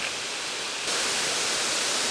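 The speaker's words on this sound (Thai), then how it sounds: "เราก็มาอยู่ที่น้ำตกชั้นที่4" The fourth tier of Jet Sao Noi waterfall pours with a steady, broad roaring rush of falling water, close and continuous, becoming slightly brighter partway through.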